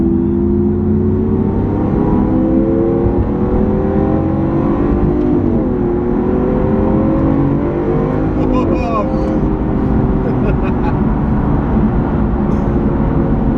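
Inside a four-wheel-drive Lamborghini Aventador on the move, a loud, close engine note rises as the car accelerates, steady and continuous, with a voice briefly over it.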